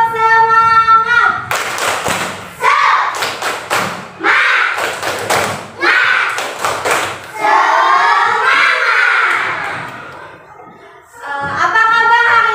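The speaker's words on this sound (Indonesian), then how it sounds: "Sekali lagi, tepuk semangat!" Second-grade pupils in an Islamic primary school classroom do a rhythmic clapping chant: sharp bursts of unison claps alternate with loud chanted children's voices, repeated several times close to the listener.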